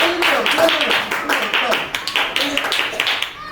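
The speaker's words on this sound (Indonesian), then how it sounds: "Tepuk tangan dulu untuk kelompok 1" A classroom of students claps for a group, with a busy run of close hand claps that thins into scattered separate claps toward the end, with voices mixed in.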